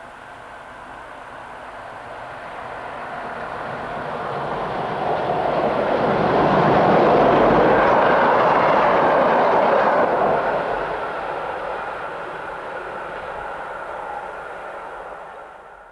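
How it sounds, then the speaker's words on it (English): A DB Class 110 electric locomotive of the 110.1 subclass heads north through Duisburg-Rahm. A steady rail roar swells as it approaches, peaks loud and close around the middle of the clip, then fades slowly with a broad rushing tone. "In our final scene of the Class 1101 subclass, number 279 heads north through Duisburg-Rahm."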